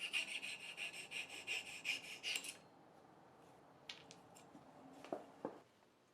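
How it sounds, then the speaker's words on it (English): A fret saw rasps through the waist of wooden dovetail pins in a run of quick, even strokes lasting about two seconds, followed by quieter scattered taps and light handling of the wood. "I use the fret saw to just take care of the waist"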